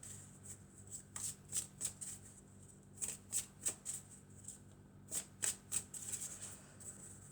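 Elf oracle cards are shuffled close by in quiet groups of crisp riffling flicks, several bursts of rapid soft slaps separated by brief pauses, with no talking.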